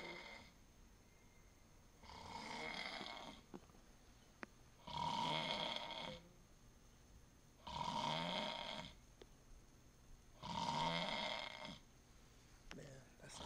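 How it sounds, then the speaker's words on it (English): A man snores heavily in slow, regular cycles, each loud rasping inhale lasting about a second and followed by a quiet pause, close and unaccompanied. "It's a snore within a snore."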